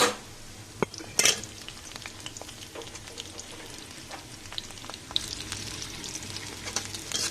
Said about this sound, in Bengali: এখানে হালকা করে এটাকে ভেজে নেব, বেশি লাল করব না